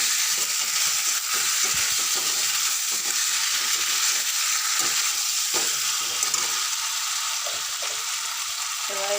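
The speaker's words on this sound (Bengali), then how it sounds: "এই ভেজে রাখা আলু, তারপরে ডিম সব ঢেলে দেবো এতে দিয়ে নেড়ে নাড়াচাড়া করবো" Fried potatoes and eggs are stirred and tossed in a pan with a splash of water, giving continuous sizzling and hissing broken by soft scraping strokes, with no one speaking.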